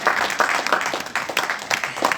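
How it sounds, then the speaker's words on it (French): Audience applause at a political rally in Sevran, a loud, dense patter of many hands clapping in uneven bursts that swell and ease across the stretch. "Applaudissez pour ça."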